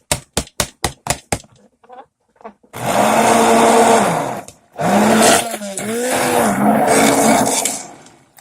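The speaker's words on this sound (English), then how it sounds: "My stick blender." A stick blender whirs through cold process liquid soap batter in two long, loud, steady bursts, preceded by a few sharp clicks and short pauses.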